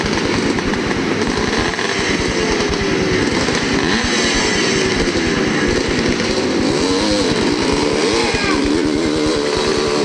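Vintage off-road motorcycles race at a 1990 hare scramble at Hollister Hills. Loud, continuous engines throb with rapid firing pulses and rising and falling revs as bikes pass, with no talking.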